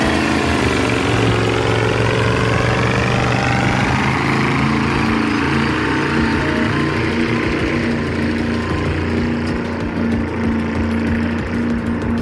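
Loud, steady roar of a Caterpillar heavy equipment diesel engine working hard at close range, a continuous dense rumble with rattling mechanical texture and no voices.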